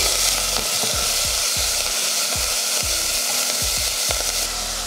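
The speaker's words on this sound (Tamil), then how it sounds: "இந்த அளவுக்கு வதக்குனதுக்கு அப்புறமா நம்ம முருங்கைப்பூ எடுத்து வச்சுருக்கோம் இல்லையா, அதையும் சேர்த்துடலாம்" Drumstick flowers being sautéed in a pan for rasam: a constant loud sizzle with a low hum beneath, broken by about nine evenly spaced thuds of a stirring spoon.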